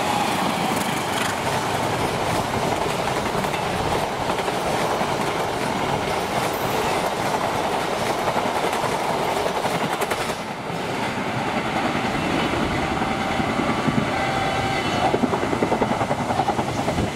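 Argo Parahyangan passenger train speeding through on the main line near Karawang, a loud continuous rumble of wheels and rail clatter close by, sustained throughout with a brief dip midway and some squealing.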